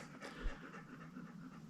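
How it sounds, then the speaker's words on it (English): A dog pants in the background of a quiet room, a soft, rapid, rhythmic breathing that continues steadily and faintly throughout. "you can hear the panting in the background."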